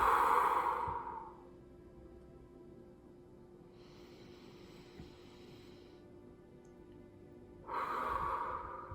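Deep belly breathing with the exhale pushed out through an O-shaped mouth: a long breathy blow, a softer drawn-in inhale, then another strong exhale, close and unhurried with no talking.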